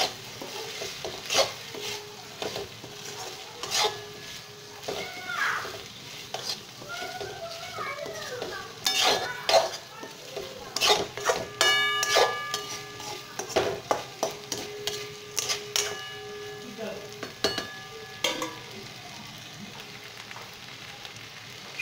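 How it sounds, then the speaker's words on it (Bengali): Soybean chunks and mixed vegetables stirred and frying in a pan, with a steady quiet sizzle and repeated scraping and clinking of a spatula against the pan throughout. "সয়াবিন দিয়ে আরও 5 মিনিট আমি এটা নাড়াচাড়া করে নেব"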